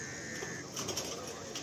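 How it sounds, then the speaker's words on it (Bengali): A male pigeon in a Kolkata loft gives a faint, soft coo under a constant low background hum, quiet and somewhat distant. "অসাধারণ নর পায়রা।"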